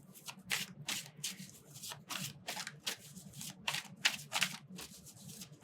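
A deck of vintage oracle cards is shuffled by hand up close, quiet crisp riffling bursts repeating in a steady rhythm with short pauses between them.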